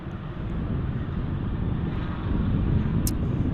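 A UPS Boeing 747-8 starting up at DFW airport produces a steady low engine rumble with a faint hiss above it, holding constant and growing slightly louder without a break.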